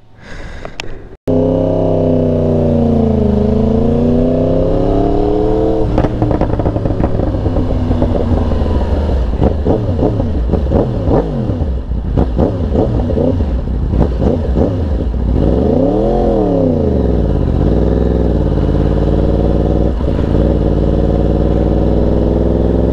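A Yamaha R1 sport motorcycle revving hard on two-step launch control, loud and close, with rapid stuttering bursts and rising and falling revs over a constant harsh engine roar, no voices.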